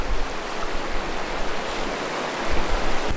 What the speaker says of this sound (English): this creek crossing looks a bit deeper